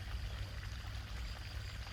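Water flows through a narrow channel linking canals in a planted forest, a soft continuous trickling and pouring close by, steady and low with no voices.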